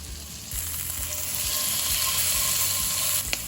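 A steak sears in a hot pan with a steady, bright sizzle that runs throughout, close and fairly loud, with a few faint clicks and no talking.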